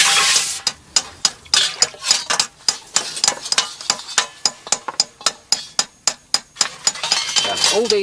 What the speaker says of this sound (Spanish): a mano, golpeando y modelando el hierro a altas temperaturas